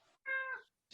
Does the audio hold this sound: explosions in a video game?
no